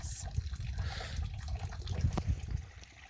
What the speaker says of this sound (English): This water is really coming out at a great flow rate.